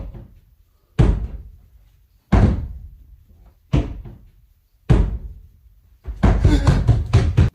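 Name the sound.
basement door opening in a ghost video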